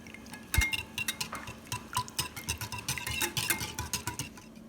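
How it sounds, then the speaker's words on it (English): Spoon clinking lightly against a bowl while stirring active dry yeast into a bread dough mixture, a steady run of soft close taps and scrapes. "This is active dry yeast. Okay, we're going to lightly mix this in."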